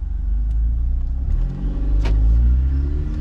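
A car's engine revving and accelerating in sport mode, a loud, close rumbling roar that builds and swells over a few seconds with no talking.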